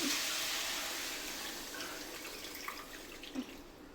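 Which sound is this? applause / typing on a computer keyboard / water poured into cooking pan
water poured into cooking pan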